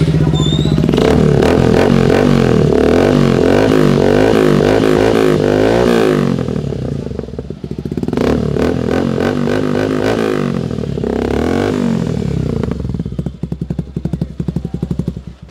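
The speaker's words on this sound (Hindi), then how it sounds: "एससी का जो आपको आ जाता है रेनबो, इसका भी आप साउंड सुन लो" A Suzuki Gixxer motorcycle fitted with an SC Rainbow exhaust revs hard up close in repeated loud bursts, rising and falling with two short dips before settling into a steady idle burble.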